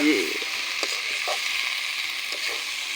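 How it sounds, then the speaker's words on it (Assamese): Chopped tomatoes hitting a hot pan for egg curry, a steady bright sizzle and frying hiss with a few soft stirring scrapes, close and continuous. "ইয়াত বিলাহী এড কৰি দিয়া হ'ল"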